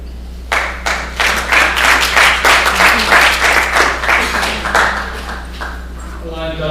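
A workshop audience applauds after a conservation presentation. Sparse claps gather into loud, full applause that swells, then thins out near the end, over a steady low hum.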